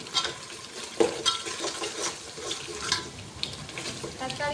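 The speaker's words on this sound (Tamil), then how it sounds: "தக்காளியும் ரொம்ப வதங்க வேணாம், ஒரு பாதி வதங்கினா போதும்." Tomatoes frying in oil with ground masala for biryani, a close sizzle punctuated by irregular spoon clinks and stirring scrapes against the pan.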